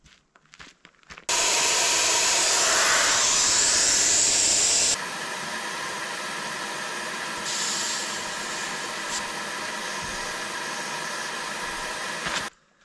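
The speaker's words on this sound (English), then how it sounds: "I've just knocked just a little bit of pressure out of the tyres." Air hisses steadily out of a car tyre valve as the tyres are let down on a mountain road, a loud, broadband rush that runs unbroken for about eleven seconds and drops a little in level partway through.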